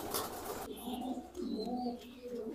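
Home-bred pigeons coo steadily in a loft, a soft continuous murmur of low rolling calls layered from several birds, close and moderate in level, with no speech.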